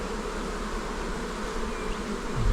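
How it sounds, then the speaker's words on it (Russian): Dense swarm of bees buzzing steadily around a hive during warm weather, a continuous close drone filling the whole stretch with no speech over it. "Вот сколько пчелы сразу собралось."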